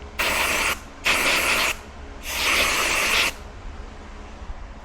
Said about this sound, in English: get the Hoppe's Gun Medic, and we're gonna spray it